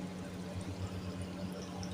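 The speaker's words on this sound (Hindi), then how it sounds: "इसमें हमने डालना है जी 1 गिलास पानी, ताकि इसकी जो है ना ग्रेवी बन जाए।" Water from a glass poured into a curry masala base in a pan, a steady close pouring and sizzling wash lasting the whole moment, with no talk.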